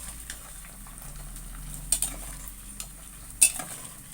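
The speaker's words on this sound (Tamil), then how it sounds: "நல்லா அப்படி கிளறி விடணும்." A spoon stirs egg macaroni boiling in a pot, with soft bubbling under a few sharp scraping knocks against the metal pot.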